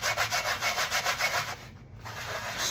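Rhythmic rasping strokes of sandpaper on a sanding block rubbing over wood while building a mandolin, close and steady, pausing briefly before the scraping resumes.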